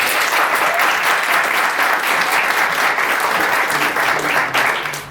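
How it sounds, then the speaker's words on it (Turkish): Loud, sustained applause from an audience welcoming guests at an entrepreneurship event, dense crowd clapping held evenly throughout and tapering slightly at the very end. "Misafirlerimiz için kuvvetli bir alkış rica ediyorum."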